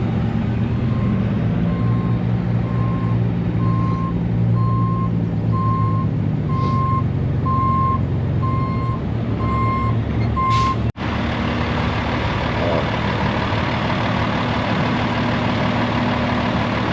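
A big rig truck reverses with a steady series of evenly spaced backup beeps over a loud, low idling diesel rumble, the beeping stopping partway through while the engine drone carries on close by.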